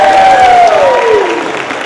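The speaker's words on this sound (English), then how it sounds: "recognize those parents, spouses, sisters, parents, children, and others, significant others, with your most enthusiastic round of applause" An audience at a college of pharmacy white coat ceremony applauds, a dense, loud wash of clapping with a faint cheer, fading slightly toward the end.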